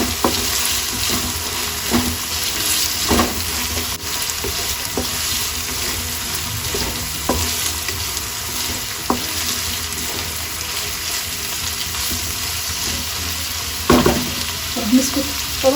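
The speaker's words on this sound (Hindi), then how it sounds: "अपनी प्याज ऐड कर लेंगे। तो अच्छी तरह से मिक्स कर लेंगे।" Onions fry in a pan for qeema pasta, a steady broad sizzle running throughout with occasional stirring knocks and scrapes, fairly loud and close, with no one speaking.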